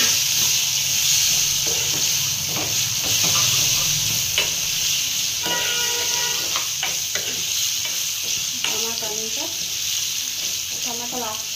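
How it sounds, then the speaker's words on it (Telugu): Drumstick pieces (moringa pods) fry in oil for a tomato curry, making a loud, constant hissing sizzle with scattered crackles, pops and stirring clatter close at hand. "అలాగే మనం ఆయిల్లో ఫస్ట్ ములక్కాయలు వేయించుకోవాలి"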